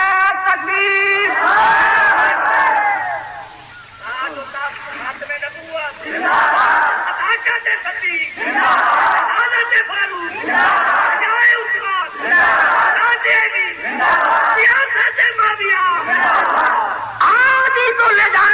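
A crowd roars back in response to a takbir slogan call, loud massed voices swelling in repeated bursts with a leading voice between them, close and forceful.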